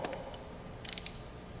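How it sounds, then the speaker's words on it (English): A 5/16 Allen wrench breaks loose the plate bolts, giving a short cluster of sharp metallic clicks and ratcheting ticks, close and quiet against a faint background. "You're going to use your 5/16 Allen wrench, and you're going to break these bolts, all 4 of them,"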